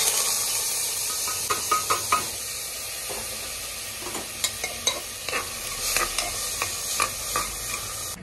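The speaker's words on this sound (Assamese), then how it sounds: "বুট ভাজিখিনি হৈ গেল মোৰ" Chickpeas fry and sizzle in a pan under a steady hiss. A utensil stirs and scrapes them in repeated close clatters, with no voices.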